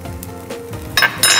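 Small oven-roasted cherry tomatoes with salt and olive oil are tipped into a hot pan, giving two short bursts of bright sizzle and clatter over a quiet kitchen background.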